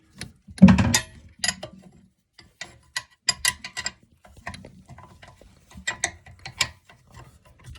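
A half-inch wrench ratchets in short bursts of clicks while loosening the tank bolts under a toilet, close and sharp, with quiet gaps between the turns.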